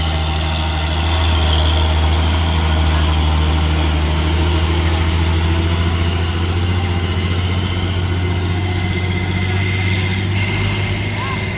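A heavy truck engine drones steadily and loudly as it labors up a steep hill road at Bukit Kodok in extreme weather. The deep rumble runs unbroken throughout.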